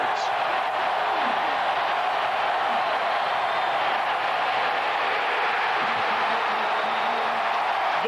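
Steady, loud roar of a college football stadium crowd at a 1998 UCF vs Auburn game as quarterback Culpepper is sacked, a dense sustained wall of cheering that holds at full volume throughout.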